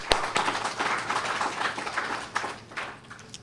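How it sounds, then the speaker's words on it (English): Light applause from a small audience at an anniversary cocktail event, scattered claps pattering for a few seconds, moderately close and unaccompanied by speech. "Please give Mr. Hanley a round of applause."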